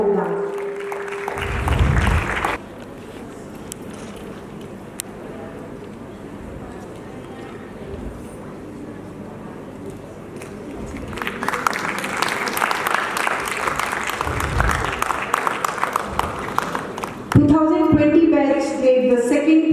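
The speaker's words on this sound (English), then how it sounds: "A big round of applause for these participants" A crowd at a folk dance competition applauds for a couple of seconds, then a long stretch of hushed ambience before a second, fuller wave of clapping, ending as music starts.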